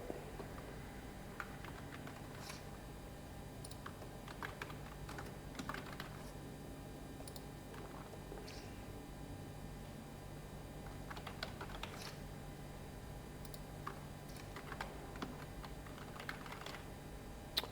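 Typing on a computer keyboard: faint, uneven bursts of soft key clicks spread over nearly eighteen seconds in a quiet room.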